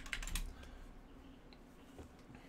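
Password being typed on a computer keyboard: a quick burst of soft, close key clicks at the start, then a few sparse taps over a faint room hum.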